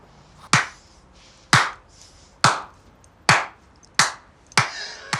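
Six sharp, evenly spaced hand claps ring out about once per second, each crisp and loud with a short decay, in a quiet room with no talk.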